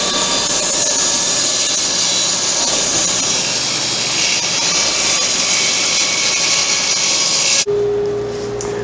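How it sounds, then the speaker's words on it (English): A power saw rips through a clamped wooden board being cut for guinea pig pens, a loud, close, steady roaring grind for about eight seconds, then the cut ends and the motor drops to a clear humming whine as it spins down. "Then just run it through your saw."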